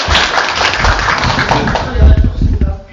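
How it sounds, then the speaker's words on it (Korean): Audience clapping at a Democratic Party appointment ceremony, a brief burst of hand claps heard fairly close, with speech and room noise mixed in. "박수가 적은 관계로 다시 한번"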